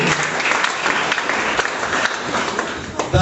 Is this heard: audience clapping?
yes